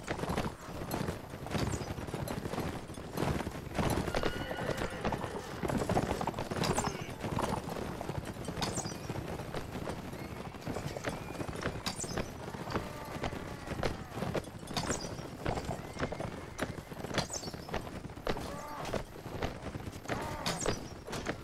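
A horse gallops in the video game Mount & Blade Warband, with rapid, continuous hoofbeat clip-clops and occasional whinnies. Faint talk sits underneath.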